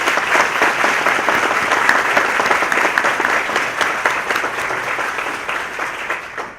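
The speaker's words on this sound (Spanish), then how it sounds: "Un aplauso para el doctor Fernández." A seated audience at a book launch for a Dominican cultural dictionary in Miami applauds Dr. Fernández with loud, dense, sustained clapping that stays steady throughout and only slightly tapers near the end.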